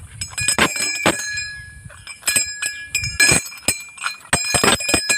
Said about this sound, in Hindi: देखी थोड़ा घंटी भी बजा लेता नहीं